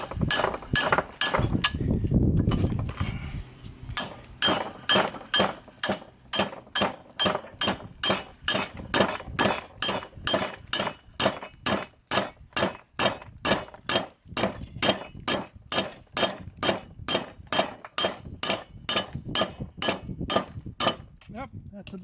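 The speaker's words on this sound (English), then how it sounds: "we can just pound down on this with any old hammer" A hammer pounding a dowel into a hole in a steel plate, a long run of sharp metallic strikes repeating at a steady quick rhythm, close and loud, after a few seconds of setup noise.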